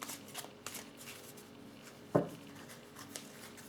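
Tarot cards are shuffled and drawn in a quiet room, soft papery riffles and light taps with one brief sharper card snap standing out near the middle, faint and close.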